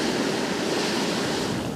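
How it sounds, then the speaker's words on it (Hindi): Hot geothermal spring water gushes hard out of the ground in Ladakh, a steady, loud, broadband rush that roars without pause and shakes nearby stones, with no voices over it. "इतना तेज़ गर्म पानी इसके अंदर से निकल रहा है"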